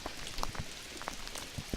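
Rain from Hurricane Irene patters softly and steadily on a surface outdoors, with scattered distinct drops standing out against a faint continuous wash.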